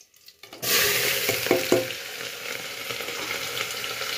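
Chopped onion hits hot oil already holding bay leaf, cumin and red chili in a cooker for desi mutton, bursting into a loud, close sizzle after a brief quiet start, with a few sharp crackles as it settles into steady frying.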